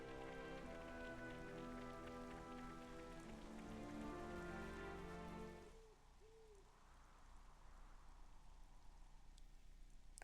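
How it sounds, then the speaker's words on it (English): Steady game rain in Xenoblade Chronicles 3 hisses continuously, first mixed with a layered tonal music bed that drops away midway, leaving the soft even patter of rain alone with faint hooting calls. "Rain."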